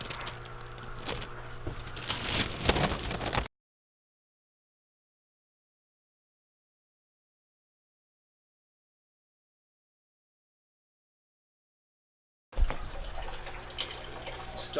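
Water drains and trickles through an aquaponic grow bed during its first fill-and-drain cycle, a splashy gurgling flow for a few seconds, then a long silence, then the same running water returning loudly.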